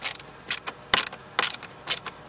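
A small Torx screw being turned out of the silver trim piece on a Mercedes ML car stereo panel, making a run of five or six short, crisp ratcheting clicks in close, steady bursts with no talking.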